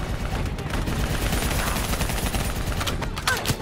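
Dense, continuous gunfire in Call of Duty Black Ops 3, aimed at an airborne VTOL with an APC nearby; a loud, unbroken fusillade with sharper cracks near the end and no talk.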